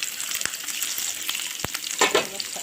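Meat frying in a hot pan for a fattah dish, a steady bright sizzle with a few sharp crackles and spatters, including a louder burst near the end, heard close with no talking.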